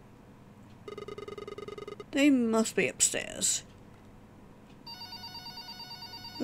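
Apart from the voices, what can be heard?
telephone ringing in a video game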